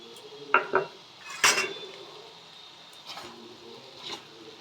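A utensil stirs tomato and peas into mixed rice in a metal pot, producing several sharp clinks and scrapes against the pot, loud early and softer later.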